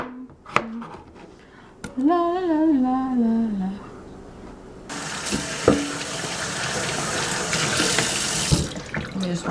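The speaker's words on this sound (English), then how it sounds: "just wash up my board real quick." Tap water runs into a sink while a cutting board is washed, a steady close rush with clunks and knocks from the board, after a few sharp kitchen thuds and a brief voice near the start.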